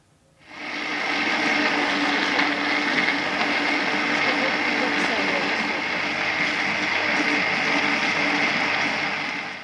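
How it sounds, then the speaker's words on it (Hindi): An electric blender whirs steadily after a brief start, blending mango shake with two scoops of vanilla ice cream for a Pune-style mango mastani; a loud continuous motor drone holds without pause. "इसको अब हम अच्छे तरीके से ब्लेंड कर लेते हैं।"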